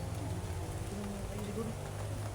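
Steady rain falling and pattering on surfaces, a continuous soft wash of drops with faint murmuring voices underneath.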